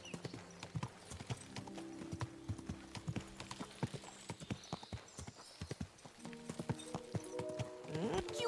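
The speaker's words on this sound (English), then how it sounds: "Acho que vai ser mais vantagem eu subir a cavalo a partir daqui." Horse hooves clip-clop in steady rhythm while riding in the medieval game Kingdom Come: Deliverance 2, close and fairly loud, with occasional snorts and a whinny near the end; a voice speaks briefly over it.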